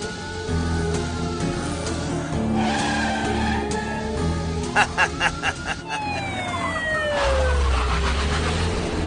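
A car races and skids in a police chase, tires squealing in long sliding tones over a steady engine drone, with a siren and a few sharp knocks partway through.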